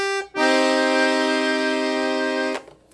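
A vintage Cream Music accordion plays a single sustained reed chord on its bandoneon register, loud and steady for about two seconds, with a short pause before and a fresh attack right at the end.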